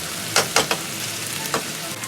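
Chicken frying in a pan on medium-high heat, a steady sizzle broken by a few sharp crackles and stirring scrapes, close and fairly loud with no talk.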